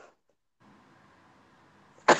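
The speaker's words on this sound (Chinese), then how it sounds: "你是咳嗽？" A single sharp cough bursts out at close range right at the end, after near silence and a faint hum during a live stream.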